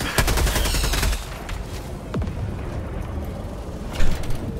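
Weapons fire in the co-op shooter game Helldivers 2, with loud rapid bursts of gunfire at the start, a quieter stretch with scattered shots, and another sharp burst near the end.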